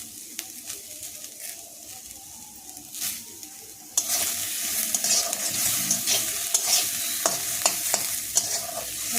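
A frying pan of chopped capsicum and softened onion is stirred, quiet scattered scrapes first, then a loud steady sizzle bursts in halfway with repeated spatula scrapes and clicks running through it.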